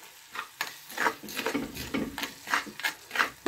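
A lamb tagine frying in its pan, heard up close as a steady sizzle with repeated scraping stir strokes at a quick, uneven rhythm and no voices.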